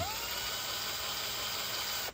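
A power drill runs continuously at a steady high pitch, drilling a hole in a 4L60E automatic transmission, then stops near the end.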